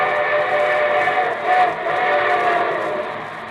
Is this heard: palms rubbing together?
no